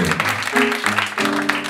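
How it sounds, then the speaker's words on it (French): Applause from an audience at an eighth-anniversary poetry event, a continuous patter of clapping running under sustained tones from music or voices, fairly close and steady for the whole stretch. "On les applaudit, mesdames et messieurs."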